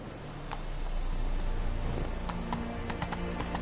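Geralt's horse Roach galloping in The Witcher 3, rapid hoofbeats thudding close and loud over a dense game soundscape, with a horse's whinny rising partway through.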